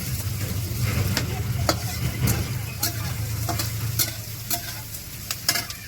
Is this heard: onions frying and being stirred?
yes